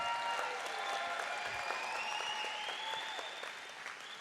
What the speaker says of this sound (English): So go ahead and give them another big round of applause.